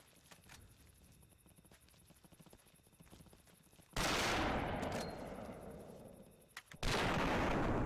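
Rifle gunshots in Cabela's African Safari video game, a loud sharp blast followed by a decaying rumble, then a second shot about three seconds later, over a quiet game background.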